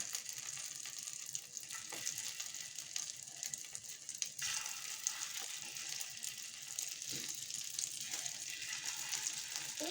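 Stuffed kalachi fry quietly in a pan, a faint steady sizzle with a few soft scrapes and taps, heard from a little distance.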